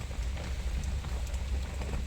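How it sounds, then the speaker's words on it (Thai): Rain beginning to fall during a flood, a steady dense patter of drops on surfaces that is continuous and fairly loud throughout. "ฝนเริ่มมาแล้ว"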